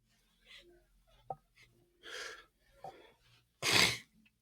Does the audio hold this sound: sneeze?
yes